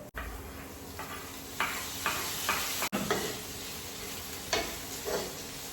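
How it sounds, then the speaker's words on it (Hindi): Onions and tomatoes fry in a pan with a steady close sizzle, broken by several scraping stirs spaced about a second apart. "जैसे ही प्याज हल्का हल्का ब्राउन होना शुरू हो जाएगा, हम उसमें डालेंगे टमाटर"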